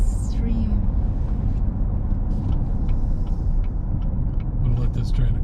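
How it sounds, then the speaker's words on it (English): A steady line of cars passing close by on a road on a scenic drive from Logan to Garden City, Utah, a continuous broadband road rumble with tire hiss that holds level throughout, with a brief higher whine near the start. "I'm gonna let this train of cars go past me."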